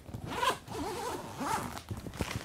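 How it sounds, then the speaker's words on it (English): A zipper on the protective cover of a Think Tank Photo Tripod Manager 44 tripod case is pulled open in several close, quick rasping strokes, with short pauses between pulls. "Right now we have a zipper cover, which helps keeps this from getting beat up in transit."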